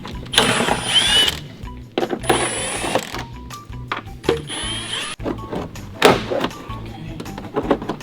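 Ratchet wrench loosening three bolts beneath a BMW M3 Competition during a short shift kit install, with several bursts of rapid clicking separated by pauses and metallic clunks, close and fairly loud.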